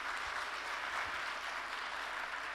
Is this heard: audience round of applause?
yes